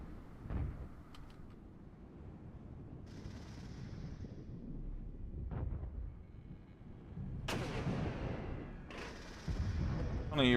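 Mortar fire in the military video game Regiments, with several deep booming launches and impacts over a low battlefield rumble, some sharp crackling bursts, moderately loud with faint voices underneath.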